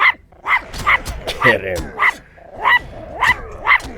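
A small aggressive dog in a Middle-earth video game barks and yips repeatedly in quick bursts, with growls and whimpers in between, close and loud while a person talks over it.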